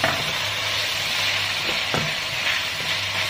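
Chicken stir-fries for spicy Thai basil chicken (phat kaphrao), giving a steady, close sizzle with a few brief scraping sounds as it is stirred in the pan.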